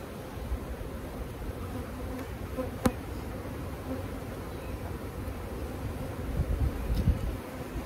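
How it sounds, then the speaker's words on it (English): Honey bees swarm in an opened hive during a spring colony split, a dense, steady buzzing hum close by throughout, with a couple of sharp clicks. "A lot of bees in here, though."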